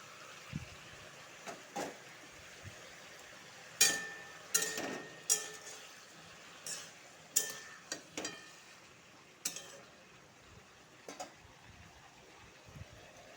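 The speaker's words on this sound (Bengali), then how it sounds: "এখন মিষ্টি কুমড়াটা ঢেলে দেবো" Sweet pumpkin pieces tumble into a pan and get stirred for a Malabar spinach chachchari, a series of sharp scraping clatters of a spoon against the pan with a soft, faint sizzle underneath.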